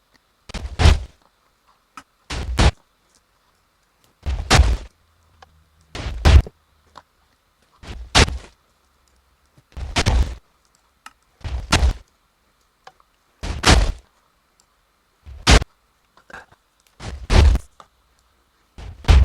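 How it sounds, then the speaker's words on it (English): Minecraft TNT cannon in a left-shooting fusion stacking setup, firing a steady series of about ten sharp, thudding booms at regular intervals, each separated by silence, with no talking. "And let me fire this."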